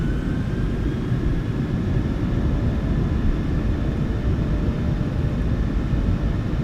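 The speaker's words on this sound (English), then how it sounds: "Takeoff power set." Boeing 737-900ER engines in Microsoft Flight Simulator 2024 hold takeoff power, a loud, steady broadband roar with a faint high whine and no voices.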